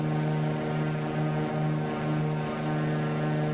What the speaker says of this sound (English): when I stop talking, the engine sound should come back up.